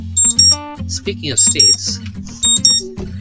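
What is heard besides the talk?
reminder alarm beeping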